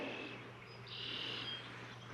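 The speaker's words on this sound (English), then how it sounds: "oh, the frogs are out. But, oh, the frogs are everywhere." Frogs calling outdoors near a murky pond or pool with debris floating on the surface, a steady high chorus of thin trilling calls running throughout, moderately near and continuous, with a low hum underneath and no talking.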